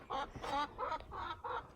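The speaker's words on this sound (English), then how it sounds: "My only friends are these chickens." Several chickens cluck in a quick run of five throaty, nasal calls, close and clear with short gaps between them.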